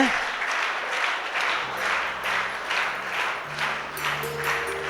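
Applause from a school audience at an awards ceremony honouring top-scoring students and their parents, steady broadband clapping throughout with faint low hum and tones underneath.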